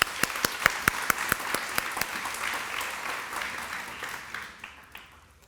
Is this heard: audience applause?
yes